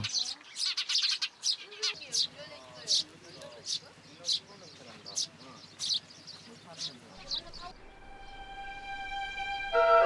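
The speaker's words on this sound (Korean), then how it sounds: "오랜 세월 하회 마을에서 터를 잡고 살아온 참새." Sparrows chirp busily on a thatched roof in Hahoe village, Andong, with quick bright tweets repeating close by, a narrator speaking over them, and a sustained tonal music bed rising toward the end.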